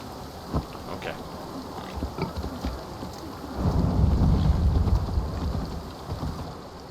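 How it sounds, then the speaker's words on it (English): Rain falls steadily in Assassin's Creed Valhalla while a low thunder rumble swells midway, and soft hoofbeats and scattered taps sit beneath it. "Of course it would have had to start to rain."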